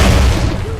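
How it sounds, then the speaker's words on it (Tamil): A bomb explosion in the Roblox video game, a deep booming blast that starts loud and rumbles away over under a second, close and heavy in the low end. "ஓ பாம் டேய் ஒரு பாம் டேய்"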